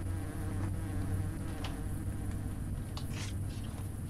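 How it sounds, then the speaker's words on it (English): Dense insect buzzing from a swarm of bees in a horror video game, a steady close drone that runs unbroken through the whole stretch with a few brief sharper flickers on top. "Why are there so many damn bees?"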